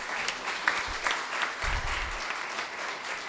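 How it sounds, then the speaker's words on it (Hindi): A seated audience at a Hindi talk breaks into continuous applause, a dense wash of many hands clapping at once, moderately distant and steady, with a faint low murmur underneath. "एक बार तालियां बजा दीजिए।"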